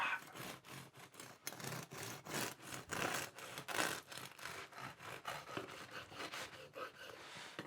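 A knife saws through a crusty white tin loaf in quick back-and-forth strokes, a close, crackly rasping with no talking.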